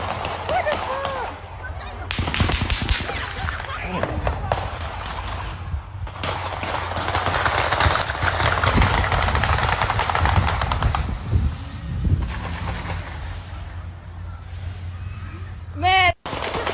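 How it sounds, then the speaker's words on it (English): Rapid bursts of gunfire crackle back and forth during a homecoming-week shooting in Tuskegee, sounding somewhat distant with clustered volleys and scattered single shots, while voices talk intermittently in the foreground. "Not only were there gunshots, there was also return fire."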